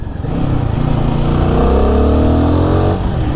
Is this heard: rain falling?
no